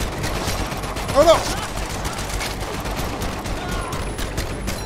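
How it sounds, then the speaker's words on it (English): Gunfire in Medal of Honor VR crackles in rapid bursts throughout, with a louder cluster of shots near the start and a man exclaiming over the shooting. "Why are y'all shooting at me?"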